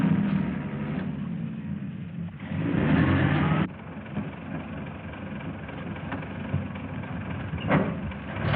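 A car engine runs steadily and close by, swelling briefly to a louder rev before settling back into a continuous hum, with no talking.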